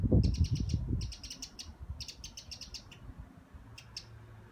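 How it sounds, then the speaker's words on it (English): A wren perched on a garden fence sings in repeated rapid trilling bursts, bright and fairly near, separated by short pauses, while low rustling and handling noise fill the start. "there's a wren right on the fence. A wren, and he's talking to me"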